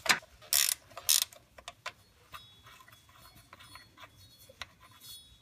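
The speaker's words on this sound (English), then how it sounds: "you're gonna take a 15 millimeter wrench, and you're gonna take this bolt off on the shift linkage" A 15 mm wrench on a shift linkage bolt of a Ford F-150 automatic transmission makes sharp metallic clicks and ratcheting ticks, a few loud snaps up front, then lighter irregular clicking nearby.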